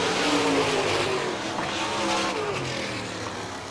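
Sprint cars race around a Barberville, Florida dirt oval during an All Star Circuit of Champions Speedweek event, engines droning loud and steady with rising and falling pitch as cars pass.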